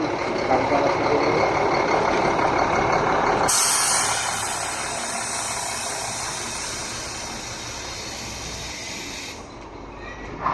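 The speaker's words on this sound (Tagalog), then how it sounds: "Matros yung truck ng idol, karga na siguro." A loaded truck sits nearby with a loud, sustained hiss like released air brakes, a steady broadband rush that shifts character partway through and carries on to the end, close and fairly loud.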